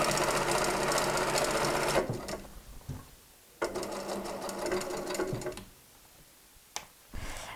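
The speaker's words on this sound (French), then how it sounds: "Là, je fais l'ourlet directement parce que c'est mon patron" A straight-stitch sewing machine running a hem in a workshop, with loud, close, rapid mechanical whirring in three bursts separated by quiet pauses and a brief click near the end.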